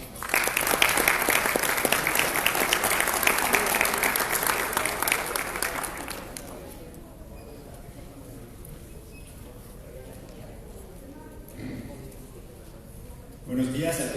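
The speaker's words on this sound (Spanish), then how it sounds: "Recibimos con un caluroso aplauso para recibir el mensaje de bienvenida" Warm applause from the audience at an electoral administration conference, loud and sustained for about six seconds before fading into a quiet, murmuring room.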